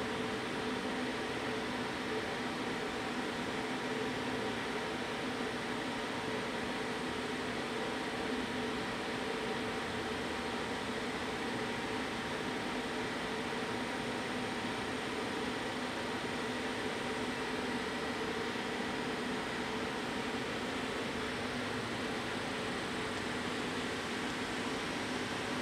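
Steady mechanical hum and whir of a 2007 Shinri CK7840A/2500 CNC lathe spindle turning at 150 RPM, a continuous even drone with no talking.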